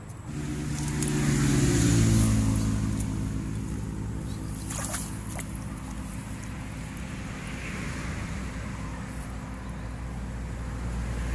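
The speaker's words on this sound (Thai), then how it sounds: "เสียงรถ แทรกเข้ามาบ่อยๆนะครับ ข้างถนน" A car passes close by on a roadside fishing spot, its rumble swelling and then fading, over steady wind and low background hum.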